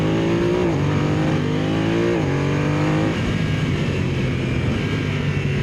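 A BMW F900 motorcycle engine pulls at speed on a road ride, with a loud close exhaust note that climbs through gear changes and then settles into a steady cruise with wind rush.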